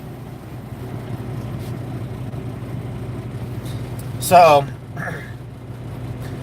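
A truck with 106,000 miles on it drives through mountains, its engine running as a steady low hum throughout. A single brief voice cuts in near the middle.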